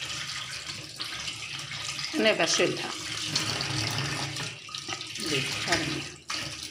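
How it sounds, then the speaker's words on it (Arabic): Tap water runs steadily into a sink while catfish are cleaned under it, a continuous splashing hiss with occasional clatter and a person talking over it. "نحط تحت الحنفية"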